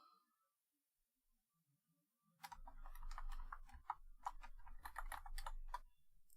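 Typing on a computer keyboard starts after a quiet stretch: fast, close, uneven key clicks in steady bursts, running on for several seconds without a break.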